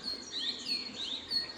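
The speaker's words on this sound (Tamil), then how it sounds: "குருவி கத்துறது, குருவி கூவுறது எல்லாம்" Sparrows chirping on a morning in Munnar, a run of short bright repeated tweets that sound fairly close and clear over a soft background hush.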